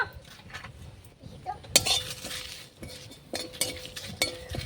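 Bay leaf, three dried red chillies, fennel and whole cumin fry in a wok, heard mostly as a spoon clinking and scraping against the metal in scattered strikes over a light, low sizzle.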